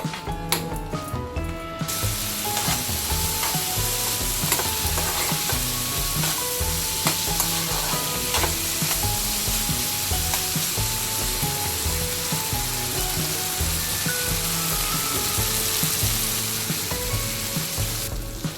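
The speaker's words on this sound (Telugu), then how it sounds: "అలాగే కొద్దిగా పసుపు వేసి బాగా దగ్గరగా వేగనివ్వాలండి టమాటాలు బాగా వేగాలి" Tomatoes with turmeric fry in a pan for a coriander-tomato chutney, giving a loud, steady sizzle throughout, with frequent scraping and stirring clicks from a utensil and no talking.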